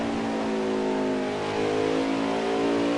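A race car roars through a circuit in a PS4 racing game, its engine a steady, close drone that climbs in pitch as it accelerates, with no voices.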